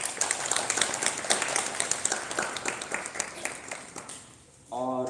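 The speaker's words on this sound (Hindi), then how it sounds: "सब जोरदार तालियों के साथ उनका स्वागत करें" An audience at a school Republic Day celebration claps to welcome a girl about to sing a patriotic song, a lively crowd of handclaps that fades out, followed by a brief voice speaking at the very end.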